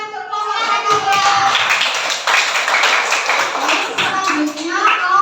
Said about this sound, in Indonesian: Tepuk tangan untuk kelompok mereka.